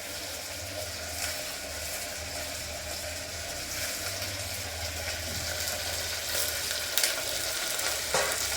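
A tempering (vaghar) of spices sizzling in hot oil, a continuous close crackling fry with a few sharper pops and clinks near the end, no voices.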